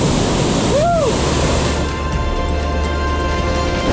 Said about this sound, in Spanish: esta cascada es el Salto Hacha